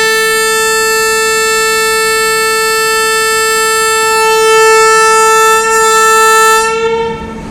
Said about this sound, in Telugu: మనకి కరెక్ట్ 7:15 కాగానే ట్రైన్ హార్న్ ఇచ్చేసింది